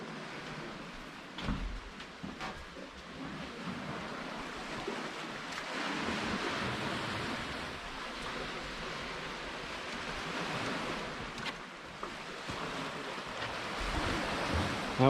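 Sea waves wash onto the shore at Sozopol, a steady broadband surf with rolling swells that stays fairly constant throughout, with some wind buffeting the microphone.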